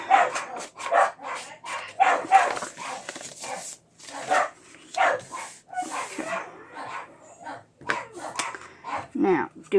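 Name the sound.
dogs barking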